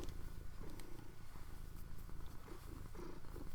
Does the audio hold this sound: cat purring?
yes